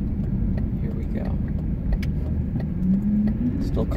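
Cars pass outside a workplace, a steady low engine rumble and tyre noise from nearby traffic under someone speaking briefly.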